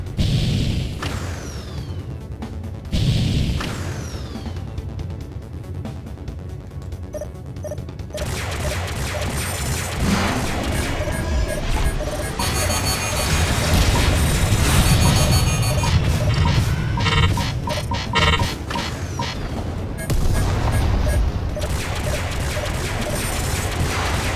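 Space combat against a cruiser in Freespace 2: layered weapons fire, thudding impacts and whooshing bursts build into a dense, sustained barrage after a few sharp early blasts, with no talk.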